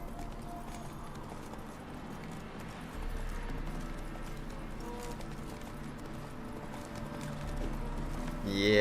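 Horse hooves clip-clop at a steady gallop in The Witcher 3, a continuous rhythmic drumming that runs through the whole stretch alongside game music, with a voice talking briefly over it.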